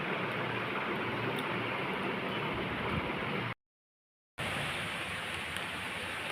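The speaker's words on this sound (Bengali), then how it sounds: "শুরু হয়েছে বৃষ্টি।" Afternoon rain falls in a steady, even hiss, with a brief silent gap midway and no one speaking.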